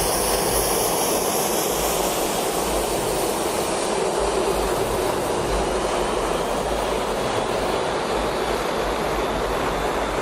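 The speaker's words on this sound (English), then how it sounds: "A small crowd gathers to watch a commercial airliner take off." A commercial airliner's jet engines roar at takeoff, a loud, steady broadband rush with constant low rumble heard close by in open air, sustained without pause.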